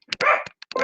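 A dog gives a few short, sharp barks close by in an outdoor farmyard, separated by brief gaps, with a broody hen nearby.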